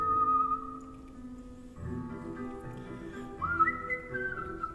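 A competitive whistler on stage whistles a melodic line alone, with clear sustained pure tones, a pitch drop partway through and a rising bend near the end, moderately quiet and close.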